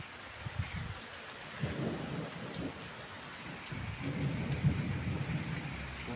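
Steady rain pours down in a thunderstorm during an outdoor gathering, with low thunder rumbling through the middle and end, no voices.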